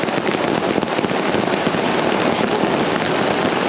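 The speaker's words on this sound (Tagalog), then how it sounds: "Ang lakas ng ulan mga pre." Heavy rain pours steadily on a rural home in the Philippines, a dense, loud, continuous hiss and patter with no pauses across the whole stretch.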